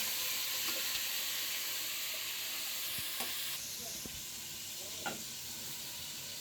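Meat with bones and fat dropped into a pot of fried onions, producing a steady sizzling hiss with a few scraping stirs and soft clunks, moderately close.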